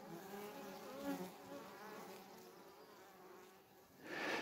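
A swarm of honey bees flies around a plywood and fibreboard swarm trap, a continuous layered buzz of many wings close by with individual bees drifting nearer and farther, one passing close at the end.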